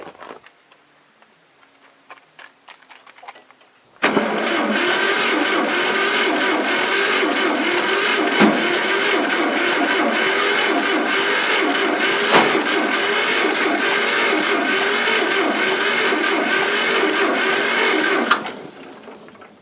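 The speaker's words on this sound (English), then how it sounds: "I'm going to push the starter button and see what happens" A John Deere 50 tractor's starter cranks the engine in one long continuous whirring run of about fourteen seconds, loud and close, with a pulsing rhythm and no catch before it cuts off.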